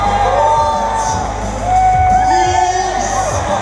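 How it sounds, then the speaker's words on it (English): A crowd at a cycle show cheering, whooping and shouting, with loud overlapping voices throughout and an announcer talking over the noise. "Can we give that man a huge round of applause?"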